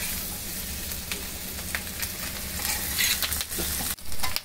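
Chicken fries in a pan on a home stove, giving a steady loud sizzle and crackle with occasional stirring scrapes and a brief clatter near the end, with no talking.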